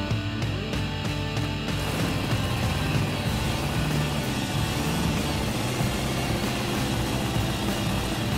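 Car engine on an Apache truck cranking and catching, with a brief rattly start before settling into a steady, loud running rumble close by.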